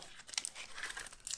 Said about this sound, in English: A little gold cellophane.